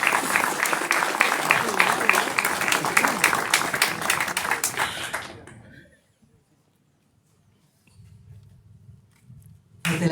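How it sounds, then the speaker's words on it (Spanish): Applause for the minister of culture at a civic ceremony in San Ignacio: dense, loud clapping from an audience for about five seconds, cutting off abruptly into near silence, with faint murmuring before a loud burst returns at the end. "El aplauso para el ministro"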